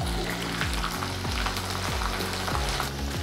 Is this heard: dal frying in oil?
yes